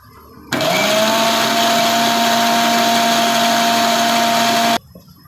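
A mixer grinder whirs steadily for about four seconds as it crushes mulberry chutney with a spoonful of water, loud and close, starting and stopping abruptly with no talk over it.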